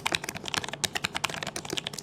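Rapid, close, crisp typing on a mechanical keyboard, a dense run of loud clacky keystrokes with no voice.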